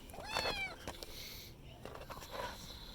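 Nervous Bengal kitten with rosettes and blue eyes meowing close by, a drawn-out high meow followed by a couple of shorter, fainter mews.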